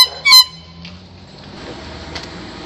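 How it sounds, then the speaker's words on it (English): A single short, loud air horn blast goes off close to the mic near the start, followed by quiet room noise with faint handling sounds. "Okay, here's the air horn."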